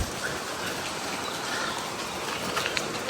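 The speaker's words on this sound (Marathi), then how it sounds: "जस्ट वरती आलोच आणि पाऊस चालू झाला." Rain pours steadily on the road up to Sinhagad fort during the monsoon, a dense, even hiss of drops that stays loud and continuous throughout.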